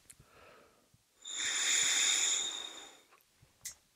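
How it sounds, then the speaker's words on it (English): Air rushing through a horn with no buzz, a soft breathy hiss that swells for about two seconds and then fades, close and quiet, with faint small clicks around it. "That's if you're getting that rushing air sound."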